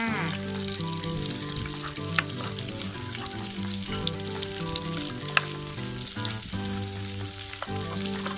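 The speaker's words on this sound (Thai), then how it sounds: "หอมมากตอนนี้ กระเทียมสุกเหลืองแล้ว" Garlic frying in oil left over from fried shrimp, a loud, close, steady crackling sizzle with a few sharp pops, heard throughout over a tonal background.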